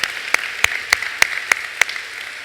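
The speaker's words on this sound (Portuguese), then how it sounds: "Pode aplaudir." Slow rhythmic clapping in a church service, about six distinct claps spaced evenly over roughly two seconds against a faint hum of the room.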